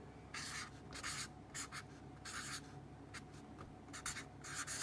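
A thick permanent marker writes a title on paper in short squeaky strokes with brief pauses between letters, close and fairly quiet, with no talking.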